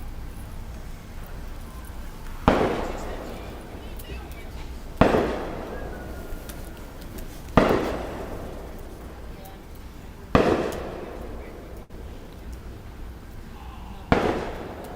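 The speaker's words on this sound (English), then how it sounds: "But these are definitely fireworks." Fireworks go off in woods beyond a rural property, sharp distant bangs arriving about every two and a half seconds, five in all, each trailing a short crackling echo over a quiet background.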